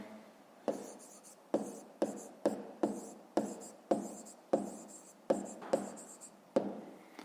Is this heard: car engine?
no